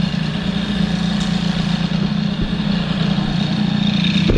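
A Peugeot 103 moped fitted with a Stage6 MK2 kit and running rich idles steadily, with a constant near two-stroke putter and a low hum and no talk.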